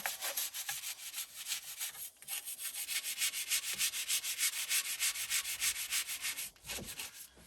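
Engine parts from a Dodge D300 dump truck being scrubbed by hand, rhythmic back-and-forth brushing strokes, close and loud, with a brief pause partway through.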